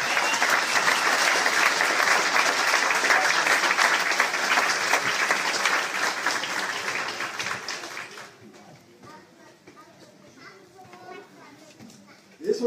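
A crowd applauds after a unanimous vote at the founding meeting of the Icelandic Socialist Party. The clapping is loud and sustained for about eight seconds, then fades to quiet murmuring and scattered movement.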